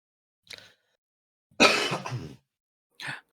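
A short cough, then a longer, harsher throaty coughing fit, followed by one more brief cough, close and loud with silence between.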